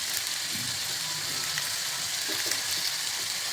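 Chopped tomatoes and byadgi chilies fry in a pan, giving a steady, dense hiss of sizzling oil throughout, even and close, with no talking.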